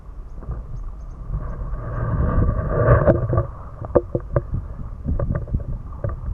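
Kayak paddle strokes dip and splash on Babinda Creek, a series of soft watery pulls and drips over a steady breezy wash, close and moderate in level with no talking.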